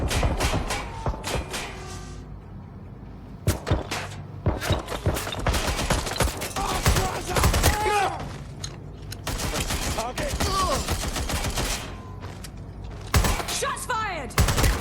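Repeated gunfire from a firefight in Watch Dogs: Legion, with sharp shots and bursts spread across the whole stretch, some in quick volleys, along with thuds, mechanical clicks and occasional game voices in between.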